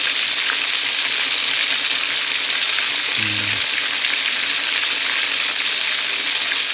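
Fish frying in boiling oil, a steady loud sizzle and crackle throughout, close and continuous, with a brief low clunk partway through.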